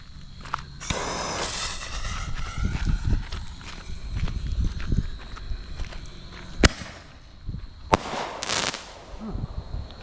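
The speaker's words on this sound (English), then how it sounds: "let's try one of the black box artillery shells" Black box artillery shell fireworks going off outdoors, a series of loud bursts and crackling booms with sharp cracks, heard at a moderate distance with scattered background noise.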